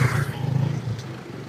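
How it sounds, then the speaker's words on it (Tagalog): A motorcycle passes close by on a street, its engine a steady low drone that fades off toward the end. "Dali, may motor"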